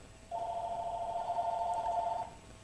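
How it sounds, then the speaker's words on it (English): A telephone rings on a radio call-in show, one steady electronic ring tone lasting about two seconds, fairly loud and alone over a faint low hum. "I hear the phone ringing."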